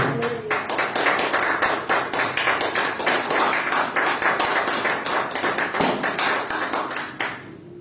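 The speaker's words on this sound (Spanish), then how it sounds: "Den un aplauso al Señor" A congregation at a church service claps in unison as praise to the Lord. The clapping is loud, steady and rhythmic, with sharp, evenly spaced claps continuing for several seconds before it trails off at the end.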